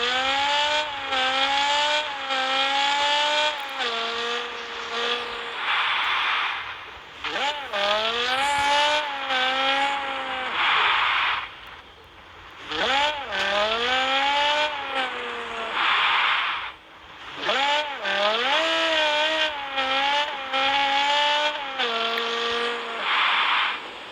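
A BMW car revs repeatedly at close range, its engine pitch climbing and falling in separate bursts with short lulls between them.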